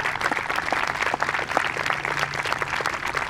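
Steady, full applause from the audience at a high school commencement ceremony, a dense wash of many hands clapping close and continuous, with a faint low hum underneath.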